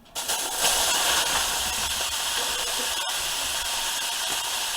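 Shrimp hit an overheated wok for seafood fried rice and set off a loud, steady sizzle. The hiss starts abruptly and holds close and continuous, with a brief dip partway through and no voices.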